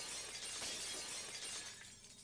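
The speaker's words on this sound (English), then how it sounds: "The unpleasant, piercing sound of shattered glass" A glass-shattering sound effect from the game Higurashi: When They Cry, a bright, sustained crash and tinkling spray of broken glass, loud and close, slowly thinning out with no talk.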